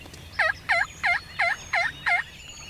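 A wild turkey hen yelps six times in a steady, evenly spaced series of sharp, raspy notes, loud and close in an open outdoor setting during a youth turkey hunt, with no talking over the calls.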